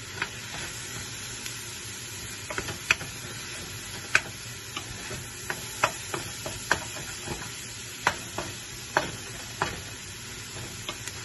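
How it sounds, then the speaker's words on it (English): Ground meat with onion and fresh basil sizzling in a pan for lasagna while a utensil stirs it, giving a steady soft frying hiss broken by sharp clicking taps against the pan about once a second, close and without voices. "I'm going to give this a little bit of a mix."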